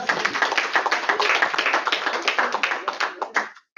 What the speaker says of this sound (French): On applaudit donc Karim.